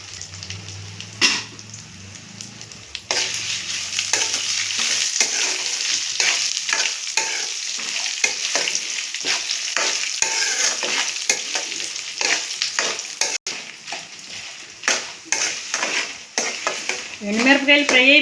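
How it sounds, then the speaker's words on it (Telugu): Dried red chillies frying with cumin and coconut pieces for a drumstick-leaf spice powder, a long, steady sizzle with repeated spatula scrapes and occasional clinks of utensils against the pan, heard close up with no speech. "ఎండుమిరపకాయలు ఫ్రై అయిపోయినాయండి"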